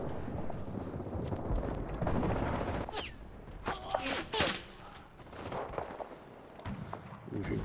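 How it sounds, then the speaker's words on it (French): Bursts of video-game gunfire crack in sharp clusters alongside a grenade blast, the shots coming in irregular volleys with brief quieter gaps between them, fairly faint overall. "j'ai eu le temps de jeter une grenade"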